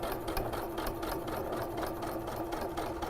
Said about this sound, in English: I'm edge stitching, so I'm going just a scant 1/8 of an inch away from my edge